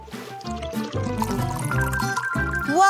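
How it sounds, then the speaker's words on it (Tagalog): Coke poured to fill a pool, a steady glugging stream of liquid with bubbling pitch rising as it fills, close and continuous for about three seconds. "Gusto mo bang punuin ko ng Coke ang pool?"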